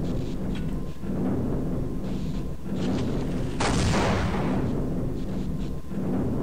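A magnum revolver fires at a Marine in the video game Half-Life, with loud booming shots over a dense, continuous rumble of game ambience.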